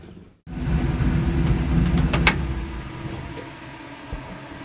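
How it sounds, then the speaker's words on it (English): A bagged Chevrolet C10 truck with an LS engine idles close by with its cooling fan roaring hard, a steady low rumble kicking in after a brief quiet start and easing slightly toward the end, with a faint tick. "That's where it wants to idle, with that fan just going like crazy"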